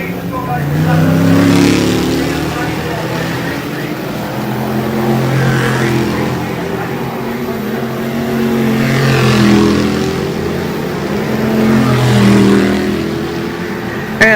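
Race cars pulling away together at a green flag start on a dirt oval, a dense, loud, sustained engine roar that swells and fades as the pack passes, with an announcer talking over it.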